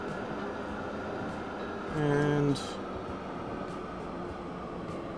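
In the Transport Fever 2 game, a train runs with a steady mechanical hum and rumble. About halfway through, a brief tonal horn-like sound rises above the rumble. Someone talks quietly over the train noise.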